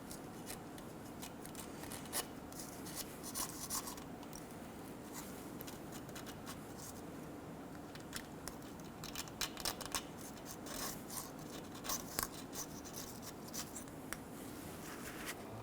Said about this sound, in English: Using a razor blade, we're going to go around and we're going to clean the mating surface